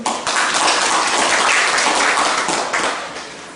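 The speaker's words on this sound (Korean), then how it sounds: "박수로서 맞이해 주시기 바랍니다" A meeting audience of market shop owners claps steadily to welcome their chairman at an emergency committee meeting, a dense, even wash of applause held at constant loudness for several seconds before easing slightly at the end.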